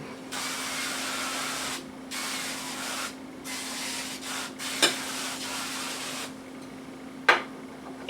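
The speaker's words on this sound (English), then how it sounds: "Then I have some spray olive oil." Olive oil cooking spray hisses onto frozen Brussels sprouts spread on a cookie sheet, in several steady bursts of a second or so each with short gaps between them, followed by a couple of sharp clicks from the nozzle.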